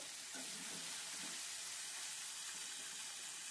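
Chicken with green chillies fries in a pan as its released water cooks off, giving a steady, even sizzling hiss that stays soft and unbroken throughout.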